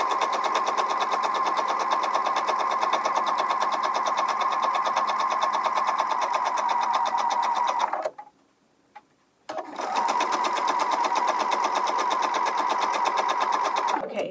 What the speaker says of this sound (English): And now I'm going to stitch all the way past.